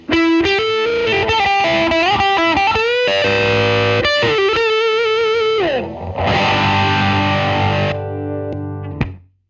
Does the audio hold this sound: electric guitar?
yes